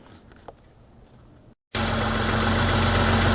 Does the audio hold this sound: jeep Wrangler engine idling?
yes